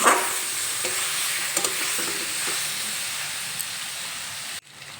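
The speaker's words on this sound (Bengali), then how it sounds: "এখন কিছুক্ষণ নেড়ে চেড়ে গুঁড়ো মশলাগুলো সবজির সঙ্গে ভালোভাবে মিশিয়ে নেব।" Mixed vegetables with ground spices, including black pepper, are stirred in a hot pan, making a loud hissing sizzle with light scraping that stops abruptly near the end.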